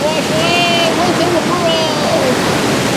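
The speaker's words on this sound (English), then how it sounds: "And big waves are coming." Large ocean waves crash and surge near a big boulder on a rugged shore, a loud, continuous roar of churning surf close by, with whistling tones drifting over the steady wash of water.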